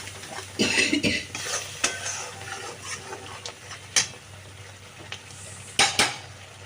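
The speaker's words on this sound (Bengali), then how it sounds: "এবার একটু জল দিয়ে কষিয়ে নিচ্ছি" A spoon scraping and stirring mushroom curry in a pan after water is added, with a soft sizzle underneath, irregular metallic clinks and scrapes, and a couple of sharper knocks against the pan, close by with no talk.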